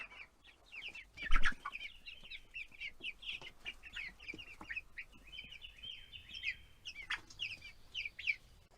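Golden Friar chickens on a homestead cluck and chirp steadily in a soft, continuous chatter, with one louder burst early on, heard at moderate distance with no voices.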